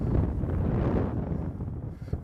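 Outdoor wind gusts roughly across the microphone at a horse training session, a loud, continuous rumbling buffet that swells and fades slightly over a couple of seconds with no speech.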